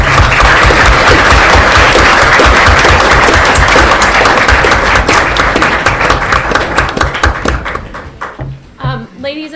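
Audience applause after a university panel with two professors on same-sex marriage and the Constitution: a dense, steady wash of many hands clapping for about eight seconds, then thinning out as a voice begins speaking.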